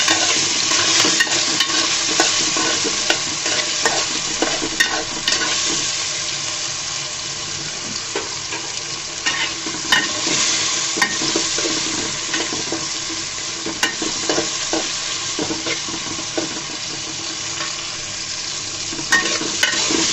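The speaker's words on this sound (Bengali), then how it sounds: "ডাঁটা আলুগুলো যখন একটু ভাজা হয়ে যাবে 2-3 মিনিট পরে বন্ধুরা আমি অ্যাড করে দেবো এখানে কেটে রাখা বেগুনগুলো।" Eggplant and potatoes frying in a pan with drumstick pieces, a steady, loud crackling sizzle with occasional utensil scrapes throughout and no speech.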